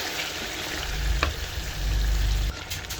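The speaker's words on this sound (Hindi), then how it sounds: "हम 2 खाने के चम्मच अदरक लहसुन का पेस्ट शामिल करेंगे और इसके साथ इसको भून लेंगे हल्का सा चम्मच चलाते हुए" Chicken fries with ginger garlic paste for a Pakistani karahi while a spoon stirs it, giving a steady close sizzle with a few scraping clinks from the spoon.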